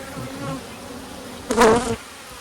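Honey bees buzzing around an opened hive during an inspection, a low droning hum with a louder, closer burst of buzzing for about half a second near the end, no speech.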